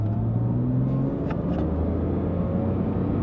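A 2008 Porsche 911 Carrera engine revs and accelerates in first gear to 4,000 RPM and 40 mph, a loud steady rumble close by with no talking.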